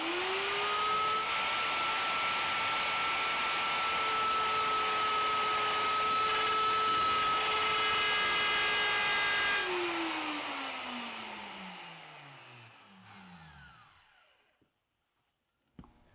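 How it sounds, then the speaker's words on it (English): A plunge router cuts a shallow mortise in a wooden cabinet for a Soss hinge, a loud, close, steady high whine that holds, then winds down in a falling pitch and stops, followed by a faint knock. "next I'll remove the set screws and use my plunge router to cut the shallow mortise"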